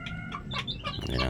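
Backyard chickens cluck busily at close range while they are fed, with a run of overlapping short calls and a low background rumble.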